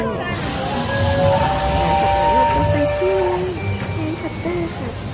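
A train in Japan passes with a low rumble and several sustained whistle-like tones that glide and hold for a few seconds, with faint voices in the background.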